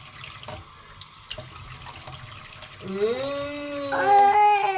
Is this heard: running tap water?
yes